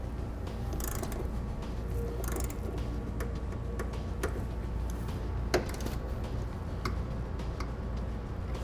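Ratchet tightening bolts on a nerf bar bracket of a 2016 Chevrolet: rapid, steady close clicking runs throughout over a constant background hum, with a few sharper knocks and no voices.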